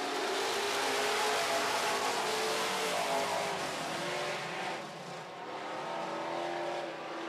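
Super stock race cars roar around an oval dirt track in a heat race, a dense continuous engine drone from several cars running close together, loud and steady with a slight dip near the end.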